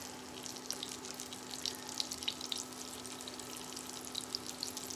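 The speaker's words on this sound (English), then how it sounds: "let's fry a fritter." A corn fritter made with fresh Silver Queen corn fries in a little oil on an induction burner, giving a steady soft sizzle with scattered tiny pops and a faint constant hum, quiet and close with no talking.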